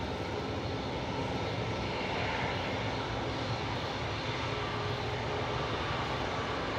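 Ryanair Boeing 737 MAX 8 arriving at Manchester Airport, a broad, steady jet engine roar at moderate distance, continuous and even throughout with no voices.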